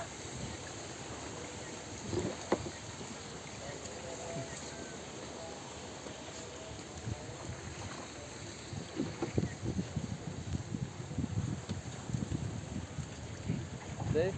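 Boat moving through the lotus-filled Padma Bil wetland at Balakur, Gopalganj, in rainy weather, giving a steady low rumble with water swishes, wind buffeting the microphone and louder splashy bursts toward the end.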